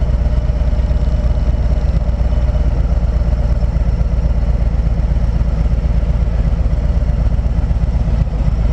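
A Harley motorcycle engine runs loud and close with a steady rumbling, slightly clattering idle while the bike is ridden slowly in circles.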